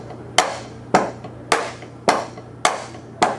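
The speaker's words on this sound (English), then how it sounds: "I'm going to show you on the drum set how you can apply this stroke tap pattern" Drum set groove built on a stroke-and-tap pattern, six sharp, evenly spaced hits over three and a half seconds with a steady low hum underneath, loud and close, no voices.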